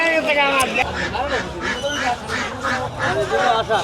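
Chinese ducks quacking in a crowd at a village market in Bangladesh, repeated harsh quacks close by over steady market chatter and bustle, with a voice talking throughout.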